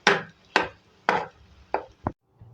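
A knife chopping through a mashed potato mixture with lemon juice on a board: five sharp, evenly spaced chops about half a second apart, close and distinct, then a faint softer tap.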